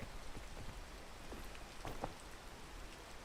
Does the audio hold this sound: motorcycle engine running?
no